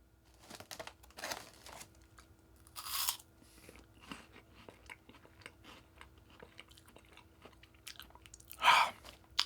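An oversized crunchy snack is chewed close to the mic, with loud irregular crunches and bites, crinkly chewing and a sharp crunch near the end, and no talk.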